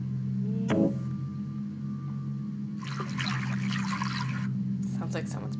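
Steady hum of background music with a splash, then a few seconds of water trickling and pouring into a gas-filled bottle in a video game, followed by bright chiming effects.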